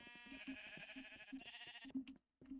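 Sheep in Minecraft InfDev bleat repeatedly in quick succession, loud and close, with short gaps between the calls.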